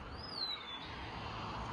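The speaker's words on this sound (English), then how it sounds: "these birds just be making any sort of noise." Birds calling outdoors: a single thin whistled call sweeps across the first half-second over a steady hiss of open-air background noise, moderately near.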